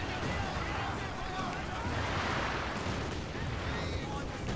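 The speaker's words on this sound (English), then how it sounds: "We do have, however, a zeroing artillery coming in from Alex MP," Zeroing artillery barrage from Company of Heroes 2 rumbles as a steady stream of distant booms and crackling blasts over continuous battlefield noise, with talk running underneath.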